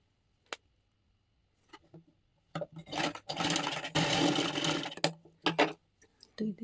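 A sewing machine runs in bursts while stitching a princess-cut blouse, the longest run in the middle, fairly near and alone.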